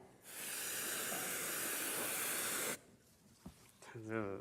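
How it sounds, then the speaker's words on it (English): A can of freeze spray blasts a steady loud hiss of cold air for about two and a half seconds, then cuts off abruptly, followed by a short rattle and a voice speaking. "This is freeze spray. This is just cold air."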